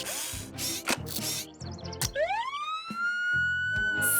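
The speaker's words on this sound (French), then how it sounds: "C'est comme ça qu'une sirène doit sonner." A cartoon fire truck siren driven through a keyboard, a rising electronic wail that sweeps up and holds a steady tone, preceded by clattering mechanical clicks and ratcheting bursts.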